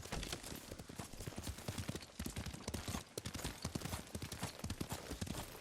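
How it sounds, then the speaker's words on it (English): Horse hooves clip-clop steadily during a ride in the video game Ghost of Tsushima, a fast rhythmic pounding that runs continuously over a busy, dense game soundscape. "Lord Sakai taught me to ride a horse."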